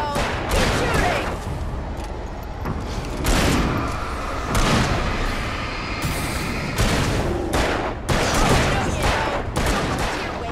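Rapid bursts of gunfire in a Black Ops 3 multiplayer match, loud overlapping volleys and single shots cutting in and out over about ten seconds, with voices talking over the action.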